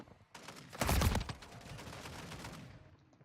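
Video game gunfire: a burst of rapid shots swells to a loud cluster of cracks near the start, then trails into a steady crackling barrage at moderate distance, with no voices.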